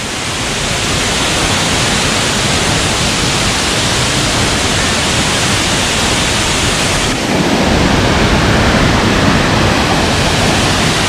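Yung Thong waterfall in Na Yung–Nam Som National Park, Udon Thani, roars in a loud, dense, unbroken rush of falling water, with a slight jump in level partway through.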